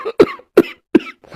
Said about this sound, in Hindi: अरे लग रहा है मेरी खांसी फिर से शुरू हो गई है।